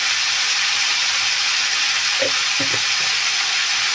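Cumin powder hits hot oil in a frying pan, raising a loud, steady, close sizzle and hiss throughout, with a few faint low knocks partway through and no talking.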